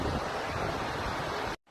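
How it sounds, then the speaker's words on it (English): A river rushes through Coulibistrie village, a broad steady roar of churning water heard close and loud without pause, then cut off abruptly near the end. "this is the river that passes through the village, causing lots of this destruction"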